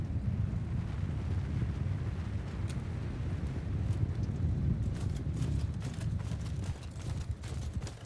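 Horses of mounted archers gallop across a Mount & Blade II Bannerlord battlefield, a dense rumbling patter of many hooves with wind-like noise, growing busier with sharper thuds toward the end.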